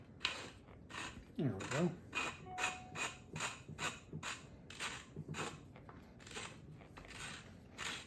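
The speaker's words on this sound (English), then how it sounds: "If we can get the shock centered so that we can get our threads started." Shock absorber threaded into a strut during a 1974 Porsche 911S suspension install, a quiet run of rhythmic ratcheting clicks repeating steadily, with brief speech in between.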